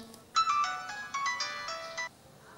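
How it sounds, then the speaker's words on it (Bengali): A mobile phone ringtone plays a bright, tonal electronic melody of quick repeated notes for about two seconds during a Bangla TV comedy drama scene, then stops abruptly. There is no talk over it. "আবার ফোন?"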